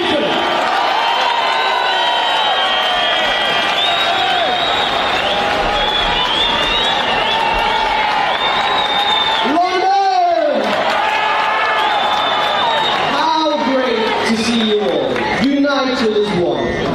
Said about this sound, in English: a massive, massive cheer, a round of applause